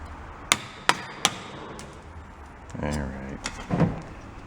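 A hammer hits a stuck part on a rotten old VW bus that sat 40 years in a junkyard: three sharp metallic blows in quick succession, then softer knocks, with a voice speaking between the hits.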